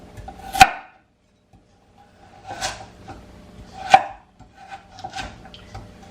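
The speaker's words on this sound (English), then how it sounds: "I'm going to cut this into strips and then dice it." A knife cuts a carrot into strips and dice on a board with a few sharp, separate chops spaced irregularly a second or two apart, close up, with quiet pauses between strokes.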